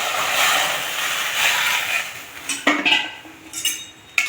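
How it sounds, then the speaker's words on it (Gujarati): A spoon stirs khandvi batter in a hot kadai, giving a soft continuous scraping swish with a few sharp metallic clinks toward the end, close and alone without talk. "ખાંડવી હું હલાવી રહી છું"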